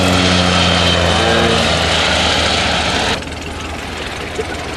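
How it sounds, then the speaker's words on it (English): Antonov propeller aircraft makes a fast downwind low pass at a Battle of Britain weekend air show, a loud steady propeller and engine roar that drops suddenly in pitch and volume as it goes by. "I think this counts as a fast pass by the Antonov."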